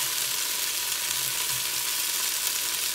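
Chopped large onion sautés in a pan for beef and noodles, giving a continuous close hissing sizzle with faint stirring underneath and no voices.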